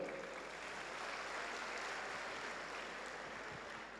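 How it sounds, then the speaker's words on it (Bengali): A crowd at a corporate business event applauds the Prime Minister, a faint, steady wash of distant clapping that holds evenly for several seconds. "আজকে দিনে সর্বোচ্চ হাততালি মাননীয় প্রধানমন্ত্রীর জন্য।"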